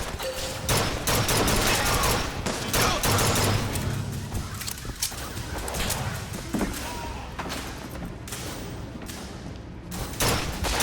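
Dense video game combat from Bioshock Infinite, with rapid overlapping gunshots, thuds and impacts in an unbroken loud wash that includes sniper rifle fire.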